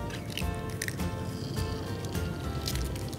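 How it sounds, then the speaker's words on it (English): An egg cracked into a pan of hot oil gives a dense, crackling sizzle with bubbling spits, close and loud throughout. "It's got the oil heated, and to which we'll just break an egg."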